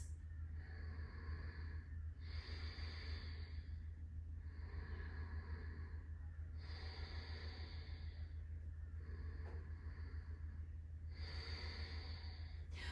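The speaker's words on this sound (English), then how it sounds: "Let's take 3 deep breaths." Slow deep breaths during a hip mobility yoga session, several long inhales and exhales in a steady rhythm over a constant low hum, close and soft with no talking.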